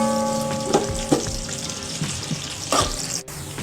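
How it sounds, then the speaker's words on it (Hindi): Sliced onions frying in hot oil for yakhni pulao, a steady close sizzle with a few sharper clatters of utensils, no talking. "यहाँ पर अब मैं अपनी प्याज लाइट बिल्कुल हल्की हल्की गुलाबी सी डाल करूँगी।"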